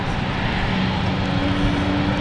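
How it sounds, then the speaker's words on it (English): A KLM airliner sets out over London, its jet engines a steady, loud broadband roar with a faint rising tone, heard from a fair distance with no talking. "KLM setting out here."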